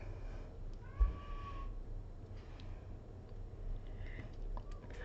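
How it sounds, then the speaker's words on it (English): A pet cat gives a soft, faint meow early on, followed by quieter scattered sounds against a steady low room hum. "He and Not have similar meows, but I think his is louder."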